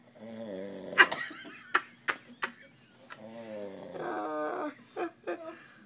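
A man snoring in his sleep: harsh, rattling snores rise and fall in long breaths, close by, interrupted by a few sharp snorts and clicks.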